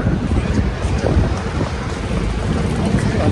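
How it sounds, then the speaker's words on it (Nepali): Steady gusting wind rushes across a microphone on a street in Dongdaemun, Korea, a broad low rumble with no pauses, fairly loud and constant throughout. "हावा चलिरहेछ"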